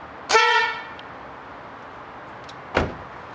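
An upgraded loud horn fitted to a Mazda3 blasts once, sharp and brassy up close, followed by a dull knock a couple of seconds later.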